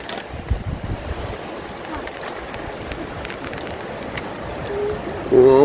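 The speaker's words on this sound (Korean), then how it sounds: "우와, 엄청난 파도." Huge waves and strong wind batter a seaside campsite on the Byeonsan Peninsula during a rainstorm, a continuous low roaring rush that grows louder toward the end, with a brief voice near the close.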